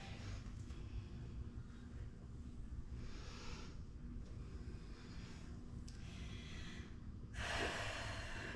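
Heavy, effortful breathing during a glute-burning leg workout of drop-in lunges, with bursts of breath and air rushing over a steady low hum, louder near the end.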